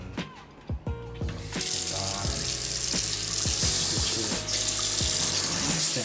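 Water runs steadily from a bathroom sink tap in a Tokyo apartment, a continuous close splashing hiss after a few brief knocks and handling sounds at the start.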